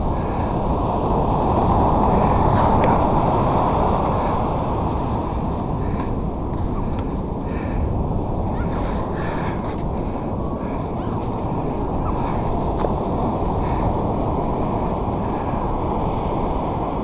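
Steady roar of ocean surf and gusting wind at the shore, loud and continuous with rolling swells and microphone buffeting throughout.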